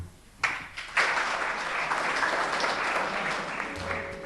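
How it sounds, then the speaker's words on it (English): Villagers give Malcolm a round of polite applause, the steady clapping starting abruptly and holding at an even, moderate level, with no voices over it. "There may be polite applause for Malcolm"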